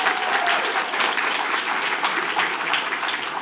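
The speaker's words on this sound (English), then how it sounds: "Let's give them a huge round of applause." Sustained applause from a large audience at a school board meeting honoring state champions, dense and steady throughout with no voices standing out.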